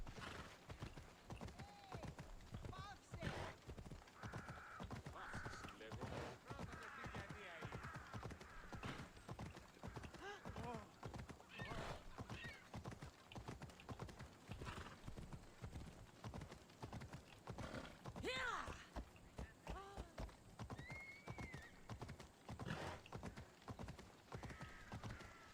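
Horse hooves clip-clopping at a steady galloping rhythm in the video game Assassin's Creed Odyssey, with occasional neighs, game music and effects layered over it throughout.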